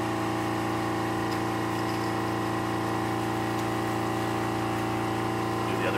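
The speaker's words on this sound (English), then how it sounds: "Gotta wait for the compressor to stop." An air compressor runs steadily while painting a rustic gill on a sauger fish carving, giving a constant motor hum with strong harmonic tones that holds unchanged and alone for the full stretch.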